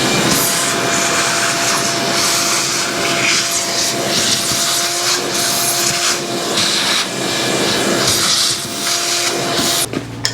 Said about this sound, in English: You want to vacuum all that junk out of there first.